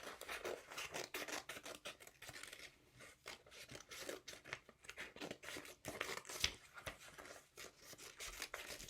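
Scissors snipping through paper while cutting out hand shapes, a quick irregular run of close, soft crisp snips and rustles, faint overall, with no talking.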